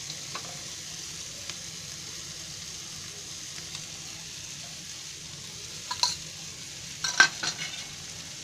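Egg sabzi masala quietly frying in a pan, a soft steady sizzle with occasional clinks and scrapes of a spoon stirring against the metal, close but low in level, no talking.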